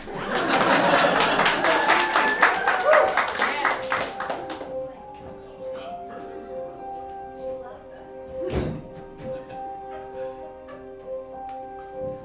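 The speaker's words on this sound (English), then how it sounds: "You can clap. That's cool." Lively applause from an audience for several seconds, then fading into scattered claps, quiet murmuring and a few knocks.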